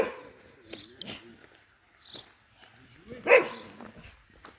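A dog barks a few times in an outdoor street scene, short sharp yaps spread across the clip with one louder bark near the end, mixed with faint background voices.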